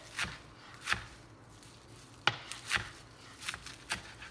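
A knife slices bunched kale into thin ribbons on a cutting board, landing as a handful of crisp, separate chops with short pauses between them, close by and fairly quiet.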